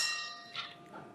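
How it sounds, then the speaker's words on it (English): A debate timer bell rings near a candidates' stage, several bright strikes with a ringing decay, heard alone without talk. "the limits will be enforced by this bell."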